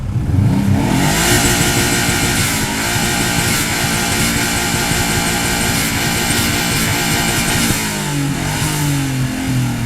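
A Subaru car engine revs hard and loud up close, roaring steadily with rising and falling pitch, no talking.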